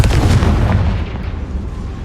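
The Confringo fire spell bursting in the Hogwarts Legacy video game: a loud, heavy blast with rumbling low-end debris that slowly trails off over about two seconds.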